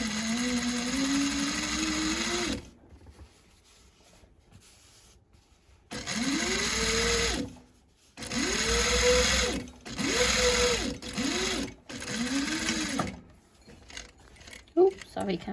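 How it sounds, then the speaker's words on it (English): Sewing machine stitching a bag seam, with a back tack at the start: several motor runs with rising and falling whirring pitch, separated by short pauses, close and clear, with no talking. "sew your seam, remembering to back tack at the beginning"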